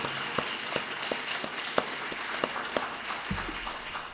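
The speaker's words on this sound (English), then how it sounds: "Just a quick round of applause for everybody who helped make this happen." A museum lecture audience applauds in a sustained, moderately loud patter, with a few distinct close claps standing out and a low thump near the end.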